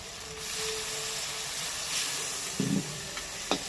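Water poured into a hot pan of Kashmiri chilli powder and spices gives a soft, steady hiss and steam, followed by a few brief clinks and scrapes near the end.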